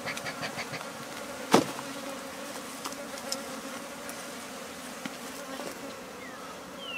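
Bees swarm around a large honeycomb during a rescue, a continuous dense buzzing hum filling the scene with a few brief knocks and clicks over it, no voices.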